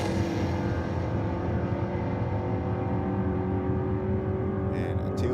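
A car and a Chevy pickup launch side by side at a drag strip, their engines making a loud, sustained, rumbling roar that fades slightly toward the end.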